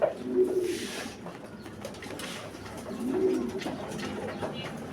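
Domestic pigeons of a famous racing line coo softly in a loft, a low murmuring call repeating a few times over steady background noise, with faint chirps mixed in.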